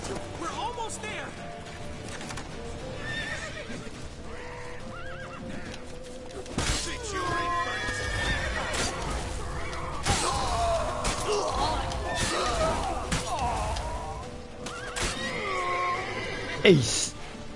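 Horse neighing in The Witcher, several loud whinnies rising over in-game chatter and hoofbeats, with voices speaking throughout.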